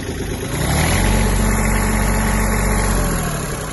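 A Kubota A-15 Japanese mini tractor engine idles steadily and loudly up close, a low rumbling chug with constant vibration and no voices.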